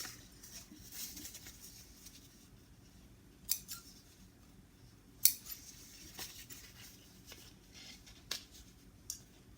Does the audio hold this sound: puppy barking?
no